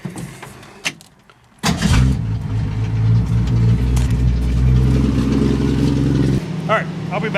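A 1965 Ford Mustang engine starts with a sudden loud catch, then settles into a steady, rumbling idle close by, with a person talking faintly before the start.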